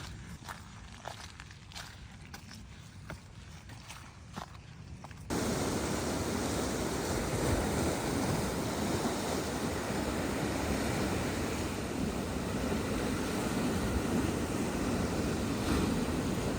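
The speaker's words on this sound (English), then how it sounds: "we were stunned by the raw beauty of the coast and the crashing waves." Waves crash on the rocky basalt cliffs of the Harpswell, Maine coast, first as faint wash under nearby footsteps, then as a loud, constant roar of surf and wind.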